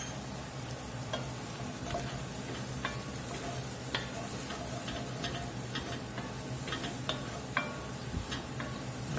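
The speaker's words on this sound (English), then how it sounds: "Let those spices and seasonings here toast up a minute or two and bloom out." Paprika, cumin and allspice toasting in a soup pot, a steady close sizzle with scattered light ticks and scrapes of stirring throughout.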